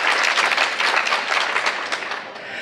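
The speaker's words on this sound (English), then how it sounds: "give John a round of applause" Audience applause for John Wilton at a staff appreciation welcome event, a dense continuous wash of many hands clapping, loud and sustained throughout with no voices on top.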